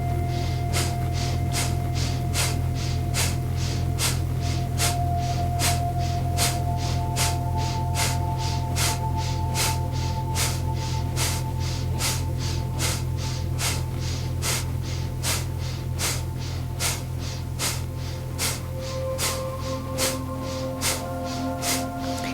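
Rapid breath-of-fire yoga breathing: sharp, forceful nasal exhalations repeat in a fast, even rhythm close by, over a steady low hum of background music.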